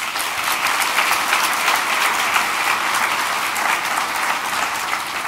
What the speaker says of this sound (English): let's just give them all one more round of applause